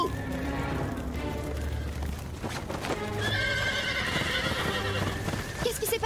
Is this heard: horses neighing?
yes